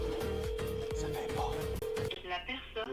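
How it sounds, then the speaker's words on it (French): A telephone line sounds a steady tone with rapid pulsing dial beeps as another number is called, then shifts to a different ringing tone, with a voice faintly present. "Je vais essayer un autre numéro de téléphone"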